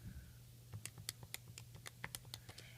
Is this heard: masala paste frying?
no